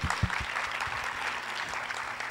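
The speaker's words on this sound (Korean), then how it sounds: "큰 박수로 맞아주세요." Applause from a talk-concert audience welcomes a foreign ministry official onto the stage, with a few sharp claps at the start followed by dense, even clapping at moderate volume.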